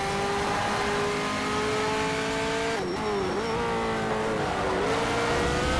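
McLaren race car engine in Need for Speed: Shift, a loud sustained howl with shifting pitch, a brief drop and recovery midway as the car passes another, engine droning continuously without talk.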